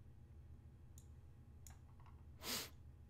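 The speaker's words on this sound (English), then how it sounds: "Shouldn't sniff like that in the mic." A single sharp, loud sniff right into a close desk microphone, preceded by a few faint computer clicks in an otherwise quiet room.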